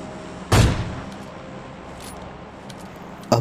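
A single sharp gunshot from PUBG Mobile Lite gameplay cracks out loud and close near the start, with a quieter background hum and a second short burst at the end.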